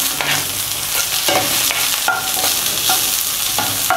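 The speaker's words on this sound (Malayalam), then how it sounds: "അപ്പം ഈ സമയത്ത് നമുക്ക് ആ പുളിയും കൂടെ ചേർത്ത് വഴറ്റി കൊടുക്കാം." Shallots and dried chillies sizzle steadily in a pan with tamarind while a spoon stirs and scrapes them in repeated strokes, close and continuous.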